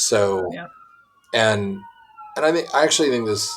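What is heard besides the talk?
police siren passing outside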